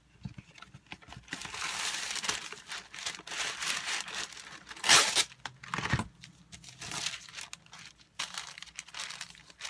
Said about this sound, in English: you want to get a new piece of wax paper.